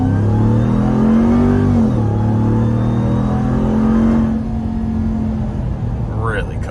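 A 2022 Ram TRX Ignition Edition pickup truck's engine revs hard and accelerates, a loud close roar climbing in pitch, dropping briefly at a gear change, then holding strong before easing off.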